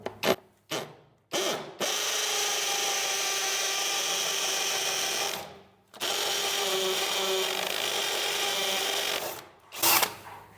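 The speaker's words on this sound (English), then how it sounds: "I have to put the concrete screws in here that have to have a little plastic cap that goes in, and I've got to drill the whole thing" A power drill boring into concrete for concrete screws with plastic anchors, a few short starting bursts followed by two long sustained whining runs, loud and close, with brief pauses between.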